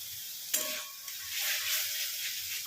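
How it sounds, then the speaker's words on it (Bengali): Spiced masala hisses hard in a hot pan as water is splashed in for Papdamacher Jhal, a sharp burst of sizzle that settles into a steady, loud frying crackle. "একটু জলের ছিটে দিই যাতে পুড়ে না যায়।"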